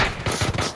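Rapid gunfire while shooting an enemy in PUBG, a quick burst of several close, punchy shots in a steady rhythm lasting under a second.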